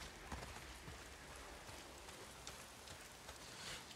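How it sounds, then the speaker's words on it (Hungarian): Light rain falls in the video game Days Gone, a steady, even patter of drops spread across the clip with no voices over it. "Csépereg az eső."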